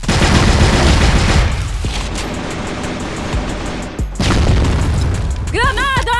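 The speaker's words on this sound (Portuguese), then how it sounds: "Granada!" Grenade explosion in a competitive first-person shooter game, a loud sustained boom with rumbling gunfire in the background and a short burst of sharp effects near the end.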